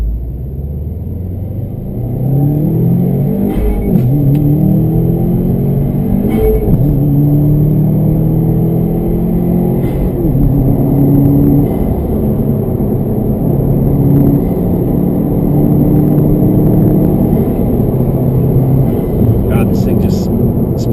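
A 2016 Subaru WRX STI engine revs and pulls hard, its pitch climbing through gear after gear in a loud, close interior drone, with a voice talking over it.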